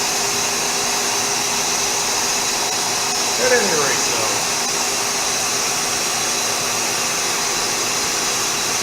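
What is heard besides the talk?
vacuum pumps running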